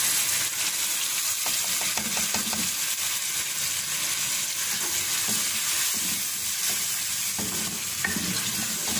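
Potatoes and tomatoes frying in a pan for village-style black dal, a loud, steady sizzle with occasional stirring scrapes, close up and continuous with no talk.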